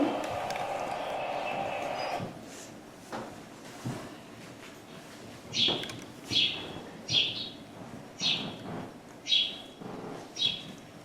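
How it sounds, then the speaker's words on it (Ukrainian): A sparrow chirps in a steady series of short, sharp calls, about six evenly spaced notes, moderately loud after a stretch of hiss, played as a recording in a classroom. "Я почула голос горобця"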